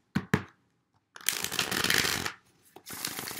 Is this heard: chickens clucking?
no